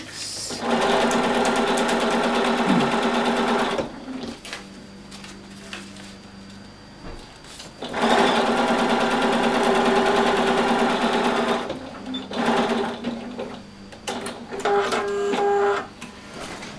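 A sewing machine stitches strips of fabric in close, loud mechanical runs of rapid needle chatter. The bursts stop and start several times, with quieter handling sounds in the pauses.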